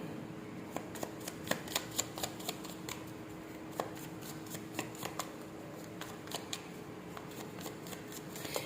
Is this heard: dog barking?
no